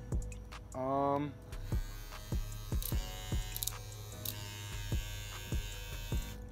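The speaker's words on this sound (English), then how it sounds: "I like the benefits of cordless clippers." A Kemei cordless hair clipper buzzes in a brief close burst, followed by quiet clicks and handling noises while a person talks nearby.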